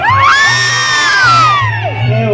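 An audience at a folklore charity concert shouts and cheers, a loud burst of shrill whoops and cries from many voices over a steady pulsing bass from the band.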